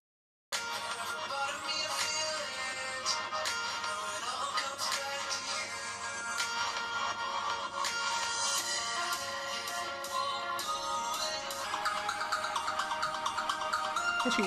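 Music playing steadily through the loudspeaker of a Xiaomi Redmi Note 4X phone during a sound test, a continuous full-band track heard at moderate level without talking.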